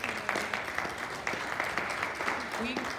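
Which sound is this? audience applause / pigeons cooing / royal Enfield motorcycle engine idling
audience applause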